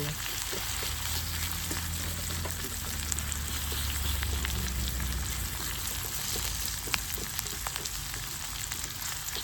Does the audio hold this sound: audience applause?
no